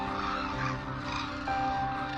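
White cranes in a Jiangxi wetland give overlapping honking calls. The calls are continuous and moderately loud, like a flock heard from a short distance.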